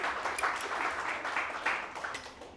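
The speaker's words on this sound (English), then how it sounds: "everybody, round of applause for Hayden" An audience gives a round of applause for Hayden at a training session, a steady patter of clapping hands that holds for a few seconds.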